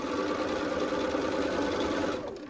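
A sewing machine stitches a quilt seam with a rapid, even mechanical whir that runs steadily, close and moderately loud, then cuts off at the end.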